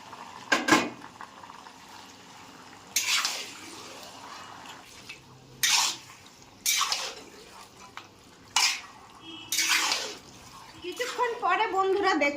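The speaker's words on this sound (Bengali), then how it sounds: "মেখে রাখা চিকেন দিয়ে দিচ্ছি।" Marinated chicken goes into a pan of sizzling masala with chopped capsicum: repeated bursts of sizzle, stirring scrapes and utensil clatter come at irregular intervals between quieter gaps, with a voice speaking at times.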